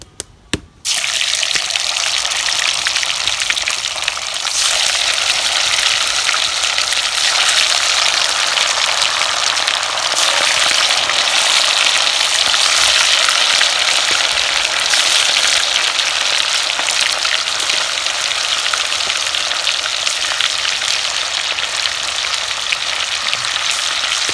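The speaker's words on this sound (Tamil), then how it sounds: "அப்படியே நல்லா மேரினேட் ஆன சிக்கன் பீசஸை அப்படியே போட போகிறோம்" Marinated pieces for chicken 65 dropped into hot oil with a sharp burst, then a loud, dense, continuous sizzle and crackle of deep frying that holds steady close up.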